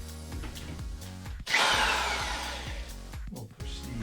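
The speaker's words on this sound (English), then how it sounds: "So we're going to drill this one out first." A power drill whirs up and bites into material while installing a car catch can, rising to a loud grinding whine that holds steady, with lower motor rumble throughout.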